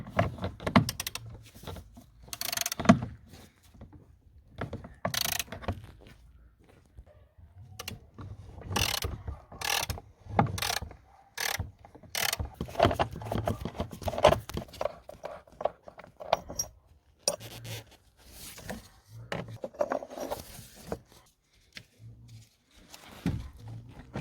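A ratchet works loose the lower bolt of a DSG gearbox during an oil change, with bursts of quick clicking between pauses, clanks and handling noise, close up and uneven over about twenty seconds.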